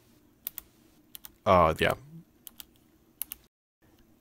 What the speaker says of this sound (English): it's a good mechanical keyboard. Listen to that.